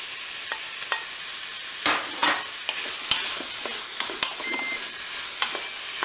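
Pieces of filet browning in a Cookeo multicooker pot, a soft, steady sizzle of frying meat with occasional sharper pops and scraping stirs. It stays fairly quiet and close throughout, with no talk.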